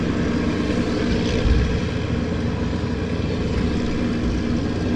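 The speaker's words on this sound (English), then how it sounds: "And the Lancaster just taxiing out once again." An Avro Lancaster bomber taxis at Southend Airport, its piston engines producing a loud, steady, broadband rumble and drone that holds evenly throughout with no voices.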